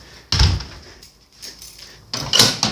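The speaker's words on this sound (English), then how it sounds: "Shut the door." A door is shut in a dark garage, a sharp near thud with a rattling close, followed by fainter clunks and shuffling.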